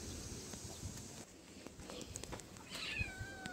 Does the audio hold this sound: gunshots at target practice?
no